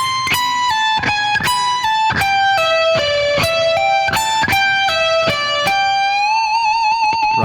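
An electric guitar plays a fast pentatonic lick, a quick run of picked notes followed by a sustained bent note that wavers with vibrato at the end, clean and close with no voice over it.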